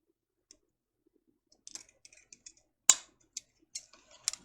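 Scissors snip through a ribbon bow end at an angle, giving a few sharp, close clicks and cuts scattered over a near-silent background, one louder snip standing out.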